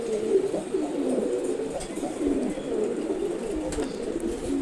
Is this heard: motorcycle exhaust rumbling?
no